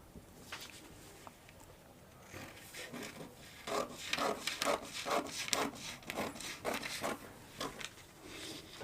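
Scissors or shears cut through paper pattern pieces and fabric for a bustier blouse with a yoke, a series of close, rhythmic rasping snips and rustles that grows busier midway.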